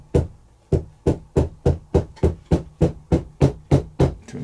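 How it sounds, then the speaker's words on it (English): A leather edge is struck repeatedly against the edge of an anvil during leather wallet making, about a dozen sharp, evenly spaced knocks, close and crisp with no talking. "I'll just hit it over the edge of that anvil"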